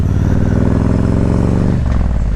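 Harley-Davidson Road King with a Stage 2 setup and SE power cam, its exhaust giving a loud, deep, throaty idle-like rumble close by, steady with a pulsing beat, then dropping slightly in pitch near the end.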